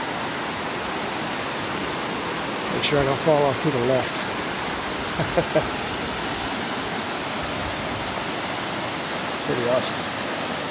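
Rushing river water roars steadily through a rocky gorge below sheer cliffs near a dam, a loud, broad constant wash while someone speaks briefly over it.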